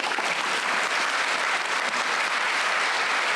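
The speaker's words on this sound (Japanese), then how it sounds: "の先生に拍手をお願いします。" Audience applause at a space symposium marking 20 years since the 1992 Fuwatto mission, a dense steady clapping that fills the room evenly throughout and dominates the whole stretch.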